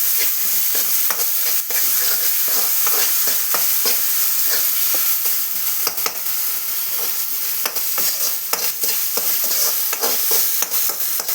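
A ground paste of tomato, onion, garlic, ginger and coconut being sautéed in oil for a chicken dish, steady close sizzling and frying with scattered stirring scrapes, no talking.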